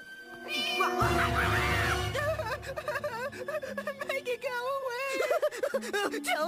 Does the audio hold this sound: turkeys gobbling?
no